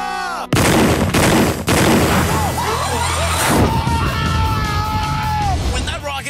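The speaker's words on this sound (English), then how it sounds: "When that rocket took off" A loud, roaring rocket launch from Cartoon Network's Dude, What Would Happen, with sharp bursts and rising whistling tones over a sustained rumble. Excited voices shout over the noise.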